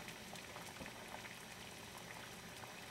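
Water at a full rolling boil during a temperature sensor test for a Honda CBR 125 motorcycle gauge, a dense, steady bubbling hiss that fills the whole moment without pause.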